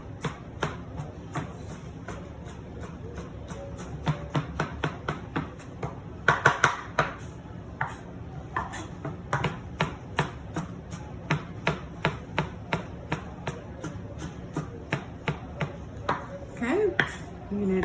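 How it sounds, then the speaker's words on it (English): A knife chops ingredients for pico de gallo in a long series of crisp, evenly spaced strikes. The rhythm speeds up briefly partway through, and a voice talks at times. "I'm gonna just chop it up a little bit more."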